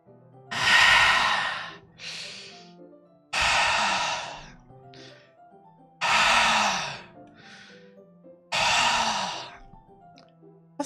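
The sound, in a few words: deep breathing through teeth in video game Doki Doki Literature Club Plus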